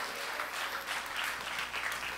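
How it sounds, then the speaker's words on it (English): A church congregation claps steadily for a birthday. The applause is dense and sustained, heard from within the crowd, and no voices stand out. "Can you give Gino a clap offering?"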